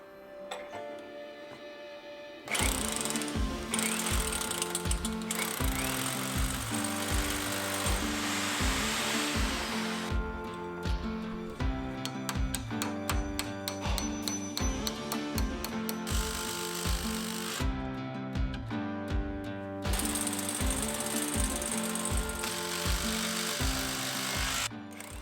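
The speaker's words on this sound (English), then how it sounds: "I drill and put in the fixings." A power drill drives fixings into a Lathams steel door frame in a workshop, producing loud, rapid, ratcheting clicks that run close and steady for over twenty seconds with a few short pauses.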